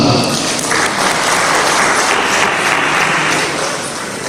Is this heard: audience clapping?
yes